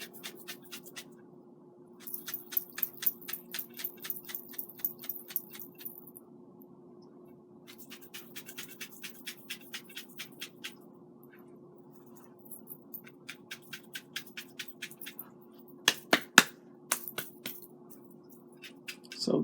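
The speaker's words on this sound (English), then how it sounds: "And you have to shake this stuff up each and every time you get ready to use it." Homemade chili seasoning mix is shaken in a container as quick rhythmic bursts of dry rattling and shuffling, several rounds separated by short pauses, close and fairly quiet, with a faint steady hum underneath.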